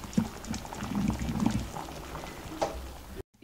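Drumstick leaves sambar, made with ground coconut, bubbling in a pot on the stove, a soft continuous burble with a few louder pops, steady and close.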